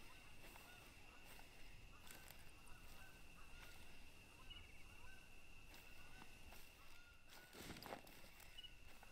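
Geese honk faintly in the distance within TheHunter: Call of the Wild, scattered calls over a quiet outdoor ambience with occasional soft rustles.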